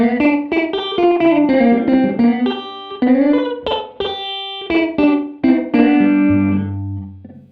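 Electric guitar plays a quick melodic phrase through an amp with its room reverb effect turned way up, notes smearing together and ringing into a long, washy sustain.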